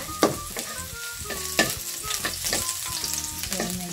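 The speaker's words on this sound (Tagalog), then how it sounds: "hintayin muna natin medyo maluto ang luya" Ginger fries in a pan with a steady sizzle, broken by a few sharp clinks and scrapes of stirring close by.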